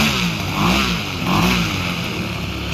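An EME120 gas engine fitted with JMB Brecka canisters and headers revs loudly and close, a dense buzzing roar that rises and falls twice with the throttle.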